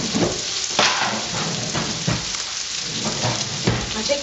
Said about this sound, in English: The butter is boiling.